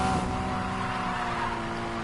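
Porsche GT4 drifting on a narrow road in the racing game NFS Payback, a steady loud engine drone with sustained tyre and motor hum running continuously and alone, without speech.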